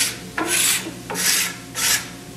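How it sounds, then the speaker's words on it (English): Hand scraper shaving down a wooden molding profile in three long rasping strokes, each a bright scratchy sweep about half a second long, close and alone. "just work it right down with that scraper."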